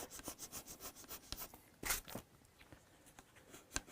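A cloth scrubs gunk off the fretboard of a Hofner Galaxie guitar in quiet, rhythmic strokes, with a few sharper scuffs mixed in.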